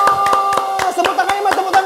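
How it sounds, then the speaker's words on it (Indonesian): A children's worship session with rhythmic hand clapping, a dozen or so sharp claps at a steady beat over continuous singing and music. "Tepuk tangannya mas, tepuk tangan lebih lagi."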